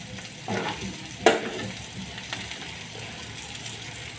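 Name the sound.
stuffed okra frying in oil, stirred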